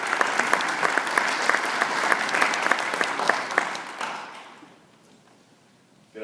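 An audience at an energy forum applauds as a speaker takes the stage, brisk clapping for about four seconds that then tapers off into near quiet.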